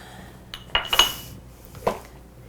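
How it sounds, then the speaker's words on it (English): Serving dishes and small glass mason jars clink together in a kitchen while chocolate mousse is portioned: a quick cluster of three or four close, bright knocks, then a single clink a moment later, with quiet between. "So I'm gonna grab a couple of other serving dishes."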